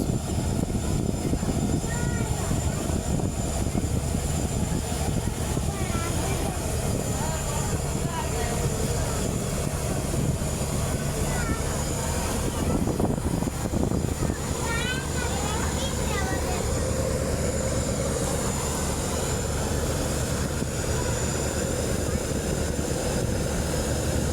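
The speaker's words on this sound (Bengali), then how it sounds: "ফায়ার মোডে আছে কর্ণফুলী 3 লঞ্চ" Karnaphuli 3, a passenger river launch, runs its engine at full speed while racing another launch, giving a loud, steady, unbroken drone that holds for the whole stretch, with faint voices now and then beneath it.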